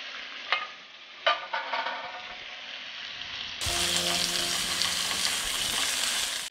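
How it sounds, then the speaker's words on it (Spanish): Minced, marinated meat dropped into hot oil to sear, a few scraping stirs and knocks followed by a sudden, loud, steady sizzle that fills the rest of the time. "Vamos a sellar nuestra carne, un poco de aceite. Añadimos nuestra carne picada y marinada."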